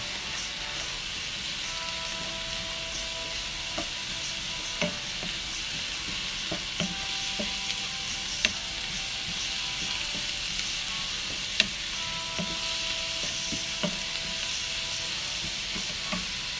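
Steady frying sizzle runs throughout as meat seasoned with salt, black pepper and black lemon powder is stirred in a pan, with scattered scraping clicks of the spoon against the pot and no talking.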